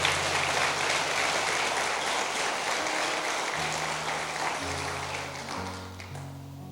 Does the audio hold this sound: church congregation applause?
yes